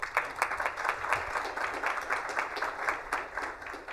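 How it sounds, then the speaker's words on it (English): Audience applause at an economic development breakfast, a steady room-filling round of many hands clapping for several seconds without speech over it. "can you give yourselves a round of applause for me, please?"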